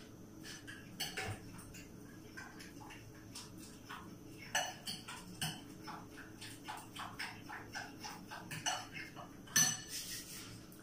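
A coconut milk and cornstarch mixture for maja blanca is stirred in a pot, giving soft, fairly faint scrapes and light clinks in an uneven rhythm over a low steady hum.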